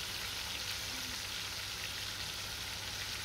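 Onion and green chili paste fries in a pan, a close, continuous sizzling hiss with a fine crackle and no talking over it.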